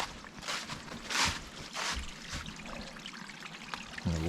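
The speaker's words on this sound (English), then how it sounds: "And the water trickling down." Water trickling down a woodland path in the Black Glen near Castlerock, a close, continuous pouring and splashing with soft swells and no voices.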